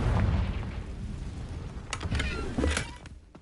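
The Confringo blasting spell in the game Hogwarts Legacy, a low rumbling boom with crackling bursts and a couple of sharp impacts trailing off.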